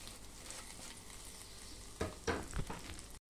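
Chopped raw onion and coriander leaves fry in a hot pan with a steady sizzle, then a few louder stirring scrapes and clatters near the end before the sound cuts off.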